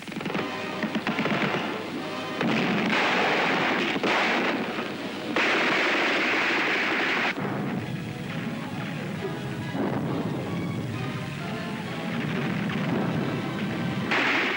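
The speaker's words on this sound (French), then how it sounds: "Germans holding out in stone houses transformed into blockhouses are decimated by grenades." Grenade blasts in wartime street fighting around stone houses turned into blockhouses at Tarnopol, heard as a sustained, loud series of booming detonations and crashes across the whole stretch, with no talk.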